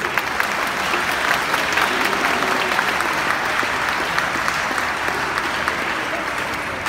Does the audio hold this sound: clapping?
yes